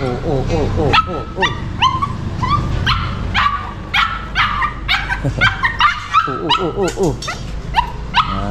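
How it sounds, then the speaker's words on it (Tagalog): A dog barks repeatedly in short bursts mixed with high whimpers and yips, close by, with people talking in the background. "Namiss tayo ng aso"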